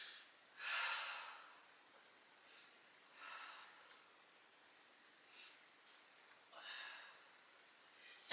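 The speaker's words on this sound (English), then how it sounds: "Deep breaths in and out, going deeper every breath out." Quiet, deep breaths during a seated yoga twist, several slow airy exhales spaced a second or two apart against near silence.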